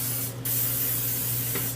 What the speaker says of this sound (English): I'm just going to spray it with some of this canola oil cooking spray